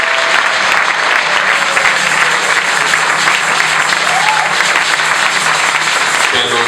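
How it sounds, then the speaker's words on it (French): A church congregation applauds for Jesus during a Sunday worship service, with dense, steady clapping that fills the space loudly and evenly and holds for the whole stretch without a break. "Est-ce qu'on peut continuer à acclamer pour Jésus?"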